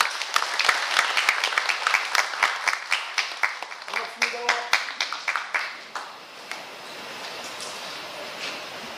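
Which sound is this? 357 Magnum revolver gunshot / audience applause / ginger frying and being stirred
audience applause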